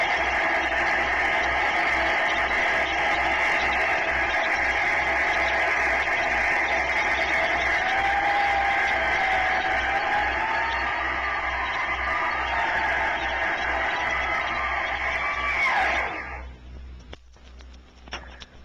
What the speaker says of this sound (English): So that is the sound of a Turbonique rocket drag axle